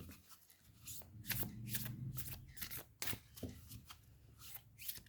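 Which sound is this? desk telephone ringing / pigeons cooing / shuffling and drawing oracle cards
shuffling and drawing oracle cards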